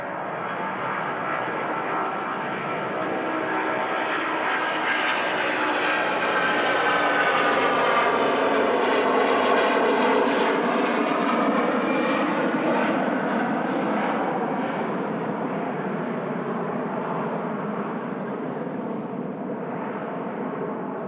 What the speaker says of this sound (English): Huge landing gear coming up there on the Air Transat A330.